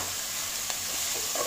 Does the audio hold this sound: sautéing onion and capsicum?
yes